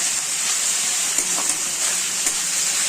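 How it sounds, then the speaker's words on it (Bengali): Onions sizzle steadily in oil in a wok, a continuous bright hiss with a few small crackles and pops, fairly close and even throughout with no talk. "এদিকে কড়াইতে পেঁয়াজগুলো ভাজা হচ্ছে"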